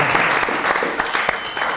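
Short, lively burst of clapping from a small group, close and loud, with distinct individual claps audible within the steady patter.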